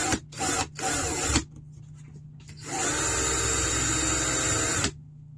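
A drill boring a hole straight through a tough snow shovel, starting with a few short bursts, then a pause, then a sustained steady whine of about two seconds before stopping.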